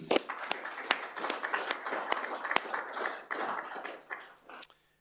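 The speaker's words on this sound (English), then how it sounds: "I think we could all acknowledge Jeff with a round of applause" A round of applause for Jeff fills a council meeting room: a steady patter of many hands clapping at moderate volume that thins out and stops.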